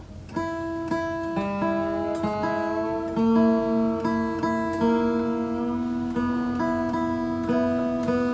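Guitar strings plucked one after another while tuning, each note ringing out while pitches shift slightly as the strings are adjusted to match, with no voices.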